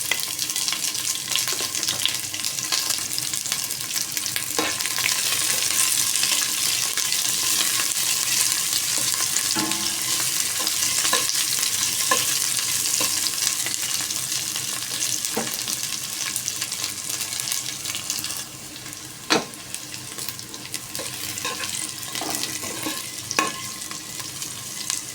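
Onion and ginger sizzle steadily in a frying pan with garlic while being stirred, broadband crackle running throughout with scattered scraping and clinking of the utensil against the pan, close and fairly loud, no talking.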